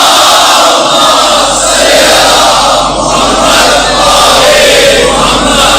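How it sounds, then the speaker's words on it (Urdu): Loud collective salawat from a big crowd at an Eid-e-Ghadeer gathering, honouring Sayeda Khadija; many voices merge into a sustained, swelling roar with a brief dip midway. "سیدہ خدیجہ کی عظمت کے لیے بلند تر صلوات"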